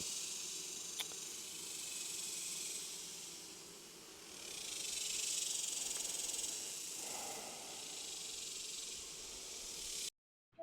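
Italian honeybees swarming around an open hive with honey broken open, a continuous dense buzzing hiss that swells midway and stays close and steady before cutting off at the end.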